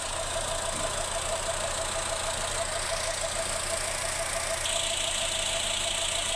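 A car engine with valve clearance trouble idling cold at slightly raised revs, a steady close mechanical drone with a ticking knock and a faint whine, running on with no talk.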